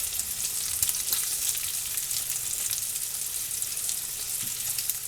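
Sausage patties sizzle and crackle in a hot pan for breakfast sausage canning prep, a dense, steady frying hiss with scattered pops that holds at an even, fairly loud level throughout, with no voices.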